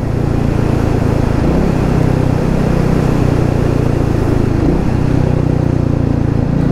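A Royal Enfield Meteor 350 motorcycle engine drones loud and steady while riding, a continuous low thrum with slight pitch shifts through a bend.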